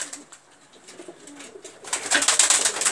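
Pigeons coo in soft, repeated throaty calls at close range, growing denser and louder in the second half with brighter rustling sounds layered over them.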